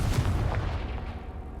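A Confringo spell blast in Hogwarts Legacy booms out as a loud, dense burst of low rumbling energy that rolls on and fades over about a second and a half.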